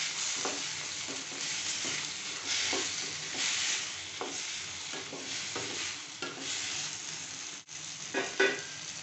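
Chopped tomatoes and onions sautéing in a pan, an even sizzle broken by repeated spoon scrapes and stirs throughout, no voices.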